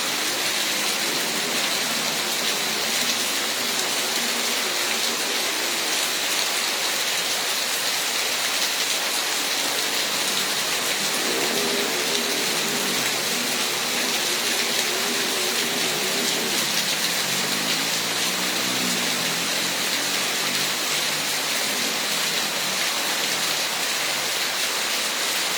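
Heavy rain driven by strong wind in Pangandaran district, West Java, makes a loud, unbroken roar of pouring water that fills the whole stretch without any pause or talking.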